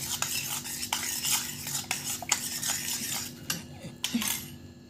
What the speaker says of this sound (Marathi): हे सगळं असं एकत्र मिक्स करून घ्यायचं आहे।